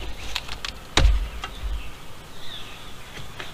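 Honey bees humming faintly around an opened hive with the inner cover exposed, a soft, thin buzz with a single dull knock near the start and no talking.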